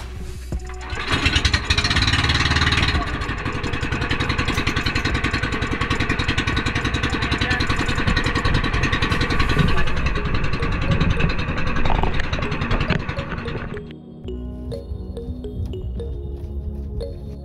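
A borrowed boat's engine runs loud and close, a continuous buzzing drone holding steady for about thirteen seconds before cutting back to a quieter, rougher idle.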